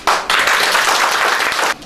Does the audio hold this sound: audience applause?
yes